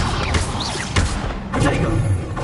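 A Wingardium Leviosa levitation spell cast in Hogwarts Legacy brings dense magical whooshing with soft thuds and rumbling impacts, steady and fairly loud for a brief moment.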